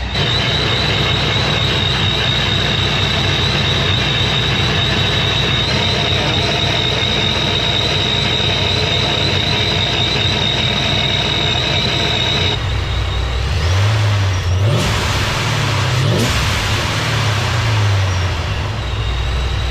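A Procharged Pontiac GTO engine idles with a loud, continuous rumble and a high supercharger whine, then blips through a few quick revs in the latter half.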